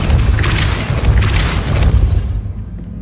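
Depulso force spell cast in Hogwarts Legacy, a loud, dense burst of low rumbling impact with repeated thuds and crashing noise that continues for a few seconds before tapering off.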